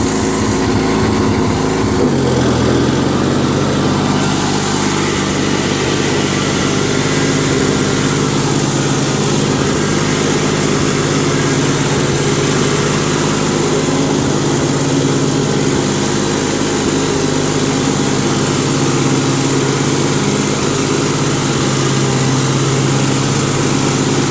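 Craftsman LT1000 Murray lawn tractor with an opposed-twin engine runs continuously while mowing, a steady close, loud droning hum with a faint low rattle, no voices over the engine.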